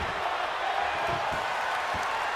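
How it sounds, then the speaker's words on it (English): Arena crowd in WWE 2K22 at a simulated WrestleMania 39 match, a dense, continuous roar of cheering and whooping that fills the space, steady and loud with no break. "The sound of this crowd is deafening"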